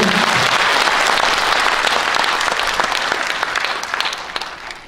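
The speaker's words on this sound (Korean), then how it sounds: "박수 한번 쳐주세요." Loud, dense audience applause at a county governor's retirement ceremony, steady and close for several seconds before gradually thinning toward the end.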